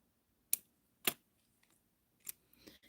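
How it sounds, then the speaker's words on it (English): Wire cutters snip off excess material in a few crisp, close clicks: two sharp cuts spaced about half a second apart, then a softer cut and light handling noise. "Then we're going to cut off this excess."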